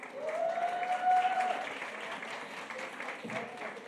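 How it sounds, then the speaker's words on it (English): An audience applauds a woman in black as she comes on stage at a women's empowerment business event in Cape Town, a steady, full round of clapping holding for several seconds, with a faint voice briefly audible early on. "let's give her a huge round of applause"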